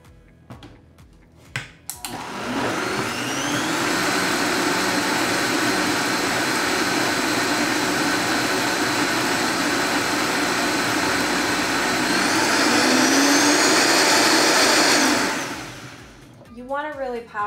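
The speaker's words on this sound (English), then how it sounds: "So get you a high-powered blender. Make sure it's blended up really well." High-powered blender blending a smoothie with avocado and strawberry yogurt, a loud sustained motor whir running for about thirteen seconds, rising slightly before cutting off, with short bits of noise before and after.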